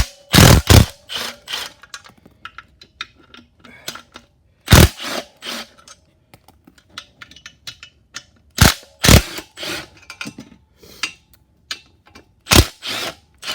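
A ratchet removes the clutch bolts on a Dodge Challenger during a clutch replacement, giving loud clicking bursts in irregular spurts with some sharp louder clacks, close up and with no talk.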